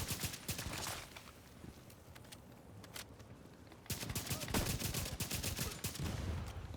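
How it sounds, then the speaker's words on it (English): Rapid bursts of gunfire from shooting NPC enemies in a looter-shooter video game, with dense automatic fire that grows louder and more sustained partway through, mixed with game sound effects. "So you want to shoot your NPCs."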